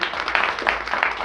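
Short burst of audience applause for Susan Proctor at a community talkback gathering, steady clapping from a modest crowd throughout, fairly close and even in loudness.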